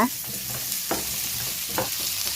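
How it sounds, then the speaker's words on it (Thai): Pumpkin stir-fried in a pan for a home-style pumpkin, egg and basil dish: a steady close sizzle broken by a few sharp scrapes of the spatula stirring the pieces, with no talking. "ถ้าใครชอบฟักทองแบบเละๆก็ผัดไปให้เละๆ"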